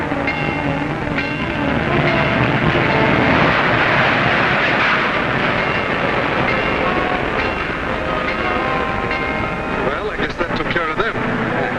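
A train rumbling through a railroad crossing, loud and close with a continuous roar and rattle of cars sustained throughout, and a voice speaking over it.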